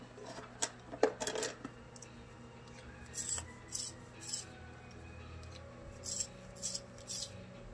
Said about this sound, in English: I need to sharpen it.